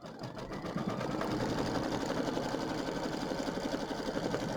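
A home embroidery machine stitches a tack-down line around a small pumpkin appliqué on fabric, a steady, fast, continuous needle chatter at close range with no voices.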